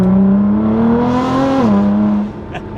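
Straight-piped Nissan GT-R R35 with full bolt-ons accelerating hard, a loud, close engine note climbing steadily in pitch, dipping briefly at a shift, then dropping away near the end.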